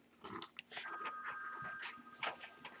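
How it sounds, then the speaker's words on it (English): A telephone rings faintly with thin sustained bell-like tones, heard under quiet talking and soft background noise. "Phone's ringing."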